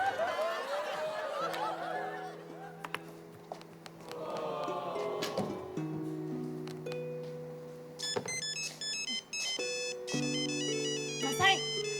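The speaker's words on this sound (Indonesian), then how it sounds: "handphonenya bunyi tuh" A mobile phone ringtone plays in an office, a bright electronic melody of repeated tones that goes on for several seconds. Voices chatter and laugh beneath and between the phrases of the tune.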